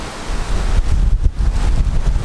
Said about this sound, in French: Il y a du vent là.